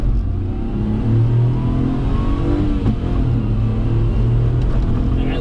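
A 1991 Daihatsu Hijet kei truck drives along with its small engine droning and revving steadily, a loud close rumble heard from the cab with no talk over it.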